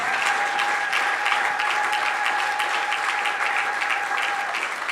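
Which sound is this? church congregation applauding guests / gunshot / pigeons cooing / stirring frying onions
church congregation applauding guests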